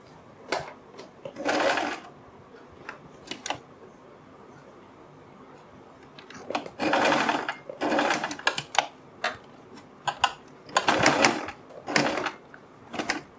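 A sewing machine stitching cord down onto a marked line on a kurti neckline, several separate bursts of fast, close mechanical whirring with short pauses and light handling clicks between runs.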